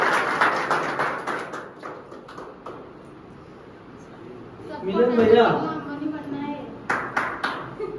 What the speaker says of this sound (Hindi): भाई के लिए ताली